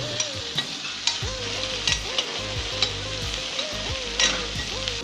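Curry leaves frying in oil in a pan for a Tamil-style fish curry, a steady close sizzle with crackling pops, while a spoon stirs and scrapes against the pan in a loose rhythm.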